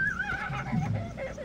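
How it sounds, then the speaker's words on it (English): A horse whinnies in the video game Prey (2006) with a rising and falling call, close and clear, over a low rumbling game background. "A horse?"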